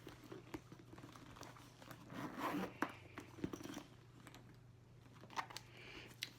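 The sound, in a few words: zipper of Louis Vuitton Epice Venus handbag compartment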